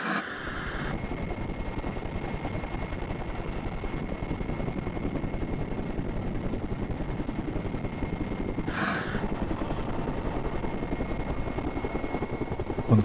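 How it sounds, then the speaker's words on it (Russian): A helicopter spraying dust-suppressant liquid over the Chernobyl zone in May 1986 drones steadily, its rotor blades beating in a fast, continuous chop with a loud turbine whine, close and unbroken throughout. "68-й вертолет. Вот он, вот спиртосульфидная борда выливается"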